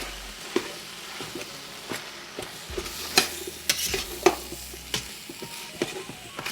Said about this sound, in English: I think we can go ahead and brown our beef in here